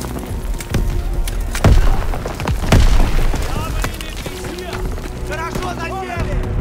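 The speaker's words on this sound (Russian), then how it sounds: "Швыряю гранату!" Two heavy explosive booms from grenades in the Call of Duty WWII game, loud and close, sit inside a noisy battlefield mix with soldiers' voices and shouting running throughout.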